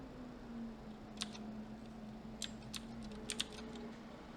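Computer keyboard function keys pressed during a Java programming class: a few faint, isolated clicks, some in quick pairs, over a low steady room hum.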